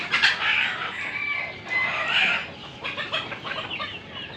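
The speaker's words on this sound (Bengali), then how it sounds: "আমার মুরগিগুলো দেখতে পাচ্ছেন ভয় পাচ্ছে কক করছে" Frightened backyard desi chickens cluck and squawk in agitated, overlapping bursts, fairly close and loud, with no one speaking.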